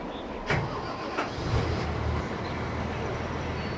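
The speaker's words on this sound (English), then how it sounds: "let's preheat the engine and start it up" A combine harvester engine in Farming Simulator 2013 cranks and catches after preheating, a couple of starter bursts giving way to a low steady idle rumble, with faint talk nearby.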